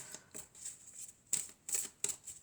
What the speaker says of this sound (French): je vais commencer par tirer quelques cartes